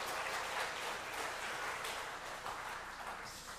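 Church congregation applauding during a Sunday evening worship service, a steady dense wash of many hands clapping at moderate level that holds for several seconds and eases slightly toward the end.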